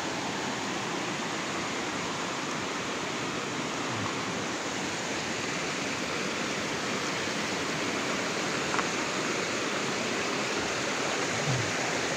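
Clear river water near Isarog, Camarines Sur, flows and splashes in a dense, steady, close rush with no pauses or voices.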